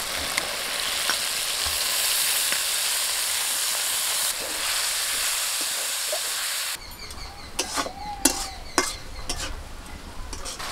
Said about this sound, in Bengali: মশলাটা কষা হয়ে গেছে, সেদ্ধ করা মোচাটা এবার দিয়ে দিচ্ছি।